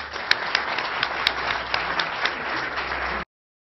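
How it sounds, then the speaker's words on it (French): An audience claps steadily through a Paris talk and debate about the work of Mohammed Arkoun, a dense wash of hand claps with a few sharper individual claps standing out, ending abruptly after about three seconds. "Je voudrais qu'on applaudisse très fort Edgar Morin."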